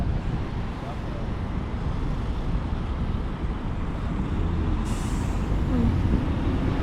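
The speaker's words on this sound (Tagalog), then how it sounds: "grabe ang traffic" Heavy road traffic rumbling in a dense, continuous roar, with a truck's hissing air brake release standing out near the end.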